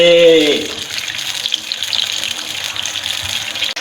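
Hibiscus hair oil fries in a pan with a steady dense sizzle and fine crackling pops, close and continuous after a brief voice at the start.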